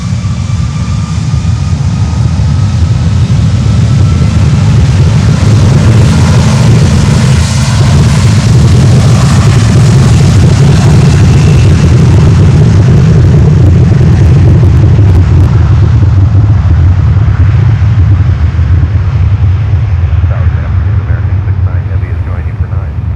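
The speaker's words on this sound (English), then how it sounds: "Alrighty, take off, Avianca." An Avianca airliner takes off from runway 9 at Miami airport, a loud continuous jet roar with heavy low rumble that holds steady for the whole stretch and eases only slightly toward the end.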